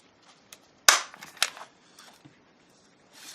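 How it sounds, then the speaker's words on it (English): Handheld stapler driving staples into the fold of a handmade notebook: two sharp snapping clacks less than a second apart, with small paper rustles and handling clicks around them and no talking. "I'll do 2 staples"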